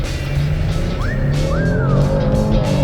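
A 2023 Kia Telluride on winter tires accelerates hard from a standstill, the engine note rising in two clear upshift sweeps over a steady road roar, loud and close from inside the cabin, with no talking.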